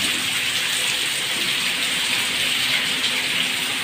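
Heavy monsoon-style rain pours steadily on a roof, a dense, continuous hiss of water drumming on surfaces with no pauses.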